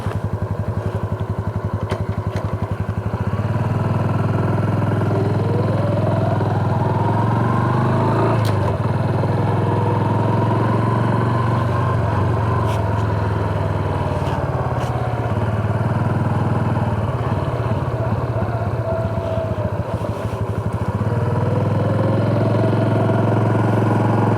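A Honda Super Cub C125 motorcycle on a Sunday break-in ride. Its small engine drones loud and close throughout, rising and falling in pitch as it pulls away and shifts through the gears.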